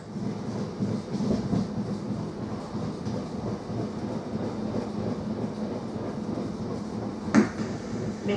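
A Paris suburban stainless-steel commuter train runs on rails between Saint-Ouen-l'Aumône and Pontoise, giving a steady, continuous low rumble heard from on board, with one short sharp clank near the end.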